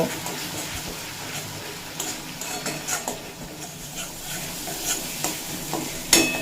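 Spices with Kashmiri chili powder and turmeric stir-fried in a pan, a faint steady sizzle with soft scraping stirs and occasional clinks, heard close and without talk.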